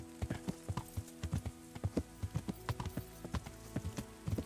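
Horse hooves clip-clopping in the medieval video game Kingdom Come: Deliverance: a steady, fairly quiet run of sharp hoof strikes in an even walking rhythm, with nothing else heard.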